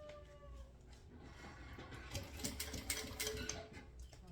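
A sewing machine runs stitches through slippery synthetic nylon bag material at a stitch length around 3.5, a steady close mechanical whirr with ticking rhythm that grows busier and louder toward the end, with no talk.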